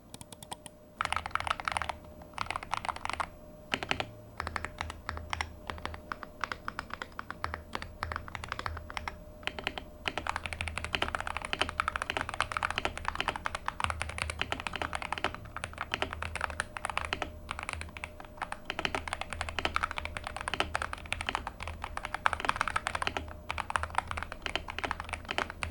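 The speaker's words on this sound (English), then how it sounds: "I think this is time to give a sound test." Typing on an EPOMAKER HE68 Lite magnetic keyboard, a long run of close, crisp keystrokes in quick irregular bursts with brief pauses, heard alone without talking.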